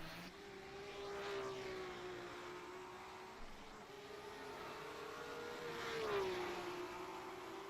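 A BMW M1 Group 5 race car engine screams in a 70s/80s-era sim race at the Norisring, a steady high whine that rises and falls as it shifts, passing from mid-distance with a smooth, continuous tone.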